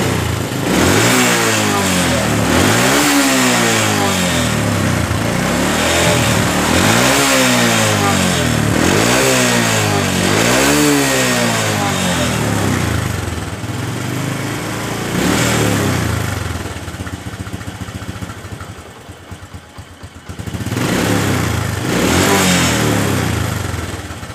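A cold motorcycle engine revs repeatedly in rhythmic rising-and-falling bursts, loud and close, then drops to a rough idle before picking up again.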